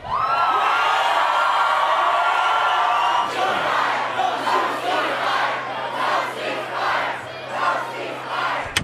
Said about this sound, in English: No ceasefire, chanted the crowd at the March for Israel rally in Washington, D.C.